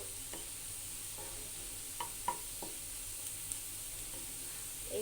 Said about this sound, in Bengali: এটা আর একটু হবে এভাবে আমি ভেজে নিবো